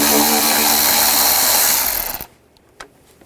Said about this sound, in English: I'm going to use a 8mm socket.